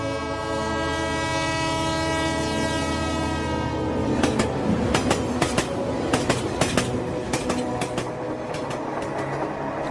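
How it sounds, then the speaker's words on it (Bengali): A train sound effect opens with a long, sustained horn-like drone, then shifts into loud, rhythmic clickety-clack of wheels over rail joints, with the horn continuing beneath. There is no speech. "একদিন দ্বিজেনবাবু ট্রেনে উঠে বসলেন।"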